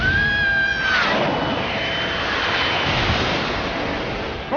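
A loud aircraft engine roars in an animated action scene, a rising whine giving way to a broad, sustained rushing drone that fills the whole stretch.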